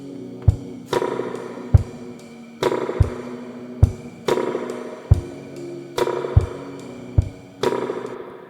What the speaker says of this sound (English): The spring reverb that I chose is from Arturia